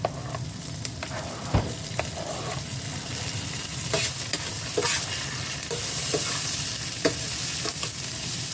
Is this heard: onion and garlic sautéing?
yes